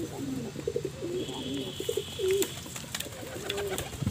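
A pigeon coos in repeated soft, throaty phrases close by in a home loft where a pair has laid three eggs, with faint background noise and no talk.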